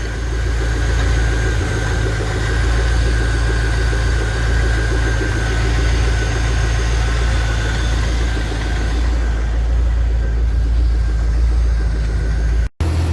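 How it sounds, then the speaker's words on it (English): Close, loud car engine idles steadily for a long stretch, with a low even rumble and no talking. "we're going to let this car run for a while and see"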